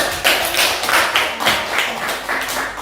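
An audience claps after a classroom presentation. The hand claps are quick and fairly even, come from a small group nearby and sound alone without talk.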